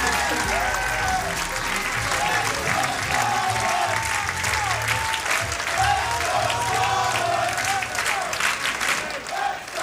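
A crowd at a 2009 Scorpion Championship bowling event cheers and applauds continuously, a dense wash of clapping and shouts, with a voice talking over it.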